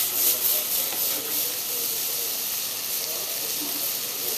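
Fish sizzles and hisses steadily in a pan as it is tossed, a soft continuous frying sound with faint scraping, fairly quiet and close.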